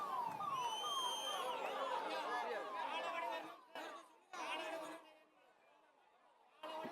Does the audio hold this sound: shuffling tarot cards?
no